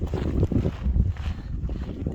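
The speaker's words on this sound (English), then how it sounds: "So the wind's still hitting us in the face." Wind buffeting a microphone outdoors at Kofa National Wildlife Refuge, heavy low rumbling gusts that thump and flutter continuously and close up.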